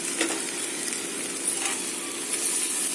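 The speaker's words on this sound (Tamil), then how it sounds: "அரிசியை சேர்த்து நல்லா கலந்து விடணும்." Rice tossed and stirred in a hot pan with sautéed mint and coriander for coconut milk pulao gives a steady, close sizzle with soft scraping stir strokes throughout.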